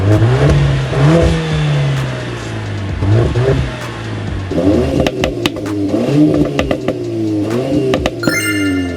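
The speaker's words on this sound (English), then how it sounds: "the Golf R takes the first round thanks to its bassy exhaust note and popcorn crackles" A Golf R hot hatch exhaust revs repeatedly, rising and falling in sharp blips, with bursts of bassy popping crackles between the revs, loud and close.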